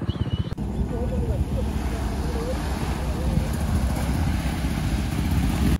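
A pickup truck rumbles along with a constant engine drone and heavy wind buffeting the microphone, riding close and loud throughout.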